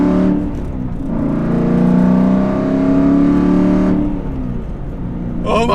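An Aston Martin V8 Vantage engine revs up hard and loud close by, rising to a sustained roar, then easing off with a deep rumble before picking up again.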